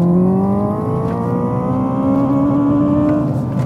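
Hyundai IONIQ 5 N electric car accelerating hard with Grin Boost engaged, heard from inside the cabin: a loud, steady synthetic engine drone rising smoothly in pitch over several seconds with no talk.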